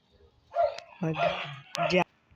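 Dogs bark and yip in short, sharp bursts, close and loud, sounding like a scuffle between them, with talk mixed in.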